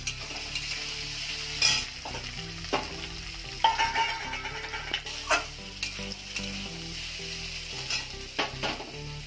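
Spinach frying in a pan with green chillies as boiled potatoes are tipped in and stirred, giving a steady sizzle broken by sharp scraping and clattering strokes of the spoon against the pan.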